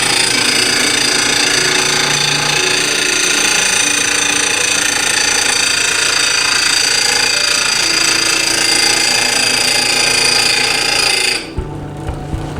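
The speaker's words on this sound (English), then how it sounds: "it's important to keep them sharp. And it's very easily done on a grinding wheel." A mattock blade is sharpened on a bench grinding wheel, producing a loud continuous metallic grinding whine that holds steady for about eleven seconds and then cuts off, leaving the motor running down.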